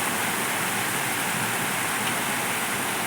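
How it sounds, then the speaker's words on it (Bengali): Heavy rain pours down with stormy wind in a constant, close, even roar of water that neither swells nor pauses. "কি জোরে জোরে বৃষ্টি হচ্ছে দেখো"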